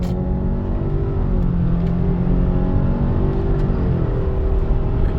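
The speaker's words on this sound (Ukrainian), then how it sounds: "Зараз рушаємо від нуля до сотні. Рухатись ми будемо в горочку і в поворот." A 2021 Subaru Outback Onyx Edition XT with the 2.4 turbo accelerates from a standstill to 100 km/h uphill into a bend, its engine a steady, rising drone heard from inside the cabin with no talk.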